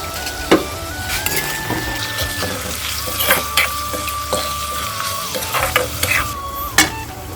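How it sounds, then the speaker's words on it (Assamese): Chicken frying in a pan as it is stirred, with a steady sizzle under repeated scraping clicks and knocks from the spoon, close and fairly loud. "এতিয়া আকৌ লৰাই দিওঁ"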